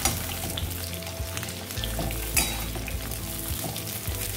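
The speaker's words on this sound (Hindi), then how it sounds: "हम एक साथ ही सारा पटल को डाल देंगे और इसे फ्राई करके निकाल देंगे।" Pointed gourd (parwal) pieces sizzle and crackle steadily in hot oil in a pan, with occasional stirring scrapes and a brief metallic clink, close and continuous with no talking.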